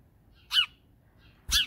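Sparrows call nearby with two short, harsh chirps about a second apart against a quiet outdoor background.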